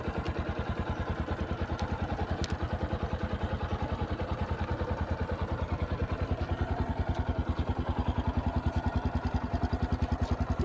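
A Bajaj Platina 110 ABS motorcycle with about 14,934 km on it idles steadily and close by, a rapid even engine thump with light mechanical clatter and no talk over it.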